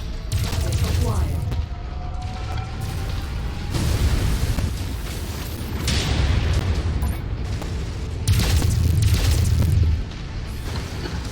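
Repeated explosions and booming weapon fire from a modded Mechwarrior 5 Mercenaries mech battle, loud and continuous over roughly eleven seconds, with heavier blasts swelling around the middle and end.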